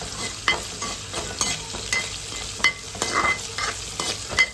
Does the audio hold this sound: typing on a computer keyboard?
no